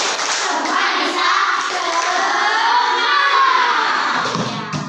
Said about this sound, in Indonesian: coba kita tepuk semangat dulu. Tepuk semangat.